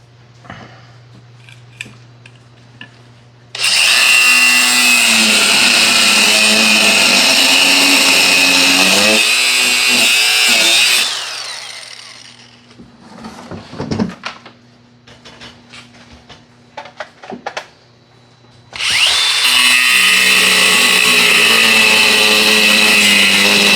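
Power tool cutting with a worn blade in a shop during a build, a loud sustained grinding whine for several seconds that stops, followed by scattered clanks, then a second loud burst of cutting.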